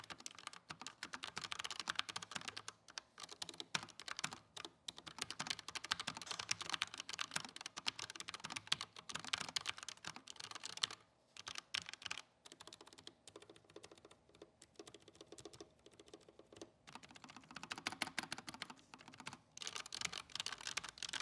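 Steady fast typing on a Redragon K618 Horus low-profile mechanical keyboard, dense clacky keystrokes running almost continuously with a few brief pauses, close and clear with no talking.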